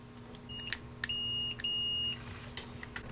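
Continuity beeper of a Fluke 107 multimeter, several short beeps followed by two longer steady tones, fairly quiet and thin, then a brief higher chirp, with no talking.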